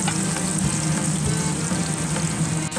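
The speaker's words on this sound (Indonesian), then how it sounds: "kita masuk bawang putih dan halia. Kita teruskan menumis ya." Garlic and ginger sauté in hot oil for a Malaysian beef dalca, giving off a loud, continuous sizzle with faint stirring, and no one talking.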